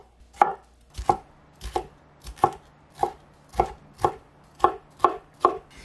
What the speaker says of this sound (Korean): 1cm 두께로 자르고 작은 네모 모양으로 써세요.